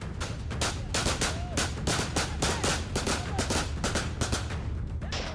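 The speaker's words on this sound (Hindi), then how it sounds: "गांव की सरहद वाली मुंडेर से ताबड़तोड़ गोलियां दाग रहे ये अफगानी फौज की मिलिशिया टुकड़ी है।" Afghan army militia fire rapid, repeated gunshots from a village boundary wall in a bursting, crackling barrage that keeps going, moderately distant.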